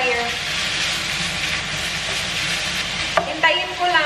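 Food sizzles steadily in a hot frying pan while it browns for a simple nachos dinner, a close, continuous hiss with a few louder clatters and stirring near the end.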